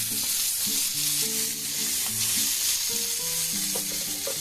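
Sliced bitter gourd frying in oil in a pan makes a constant close sizzle, with stirring scrapes breaking through now and then, with no talking.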